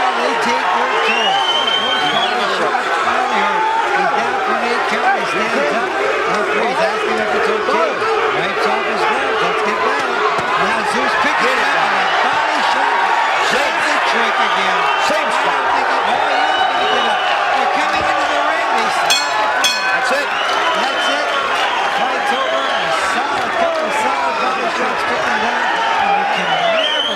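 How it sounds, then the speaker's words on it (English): Roaring boxing arena crowd at a Kostya Tszyu versus Diobelys Hurtado fight, a steady loud wash of cheering and chanting for the fighter that runs unbroken throughout, with some sharp claps and thuds mixed in. "The crowd chanting Zul"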